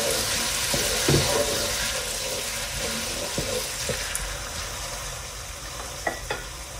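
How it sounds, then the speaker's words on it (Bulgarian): Onion and carrot fry in hot oil, giving a steady sizzling crackle with occasional stirring clicks and scrapes of the pan, moderately close and without talk. "Към сгорещеното олио прибавяме лука и моркова. Запързваме, докато лука стане прозрачен."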